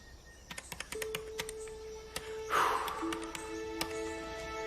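Irregular taps and clicks from a computer keyboard as someone types an email, with a few sustained tones and a brief louder rustle partway through.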